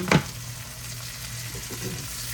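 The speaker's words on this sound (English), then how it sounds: "I'm putting 1 pound of this shredded cabbage in here on top of these peppers and onions." Shredded cabbage lands on peppers and onions in a hot pan with a sharp crackling burst, then settles into a steady, even sizzle.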